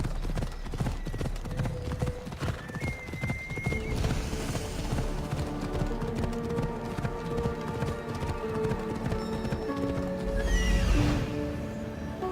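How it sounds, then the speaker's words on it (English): A horse clip-clops steadily throughout, with two shrill neighs, in Assassin's Creed Odyssey: The Fate of Atlantis, over a continuous bed of game music and ambience. "He'll know how to send it galloping back to the nightmare it came from."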